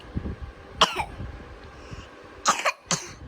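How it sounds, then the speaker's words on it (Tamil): Three sharp coughs burst out at home during sugar candy making, one early and a closely spaced pair near the end, with quiet room noise and faint murmuring between them. "இருமல் வருது."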